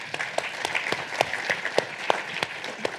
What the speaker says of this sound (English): can we applaud our microphone runner